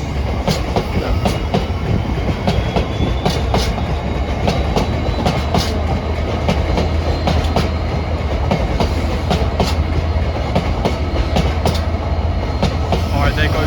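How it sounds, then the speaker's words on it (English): A train rolls past at Acton on the Great Western Main Line, loud and close, with a continuous rumbling roar and repeated clickety-clack wheel beats over the rail joints throughout. "there goes that train to hit the green down the sections"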